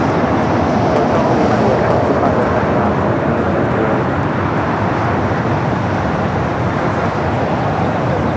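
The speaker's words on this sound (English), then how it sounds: "to the north side, Japan Airlines, flight coming from Tokyo Narita, flight 62, 787-9 Dreamliner" Japan Airlines Boeing 787-9 Dreamliner, flight 62 from Tokyo Narita, at LAX: a loud, steady, continuous jet roar that holds at full strength throughout, with no voices.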